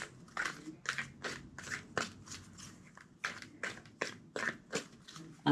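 A deck of tarot cards being shuffled by hand, soft papery riffles and slaps coming in quick bursts of about a dozen, close and quiet.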